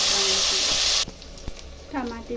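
Onions hit a hot pan for bagara rice, a bright sizzle lasting about a second before dropping sharply to a quieter background with a few clicks and a brief tonal sound near the end.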